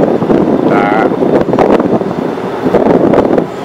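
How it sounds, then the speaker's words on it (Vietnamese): Strong sea wind buffets the microphone on a boat heading out to the river mouth, a loud steady roaring rumble with gusty surges and faint voices underneath. "Đi trên tàu ngoài này gió rất là lớn"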